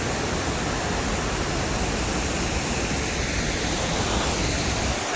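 An overflowing village lake spills water in a constant loud rushing roar, like a broad waterfall heard up close, with no other sounds.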